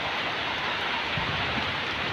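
Rain falls steadily in the Mekong Delta countryside during the first rain of the season. It makes a brief, even, fairly loud hiss of drops on surfaces, with no talk.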